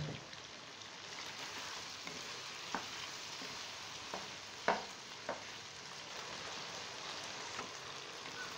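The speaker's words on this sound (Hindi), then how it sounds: "अब हम इसको 5 मिनट के लिए भूनेंगे। साथ में सब्ज़ मिर्चें भी ऐड कर देंगे" Tomatoes and green chillies frying in a karahi for a Shinwari mutton karahi, a steady dense sizzle with scattered pops and small clicks, close and continuous with no talking.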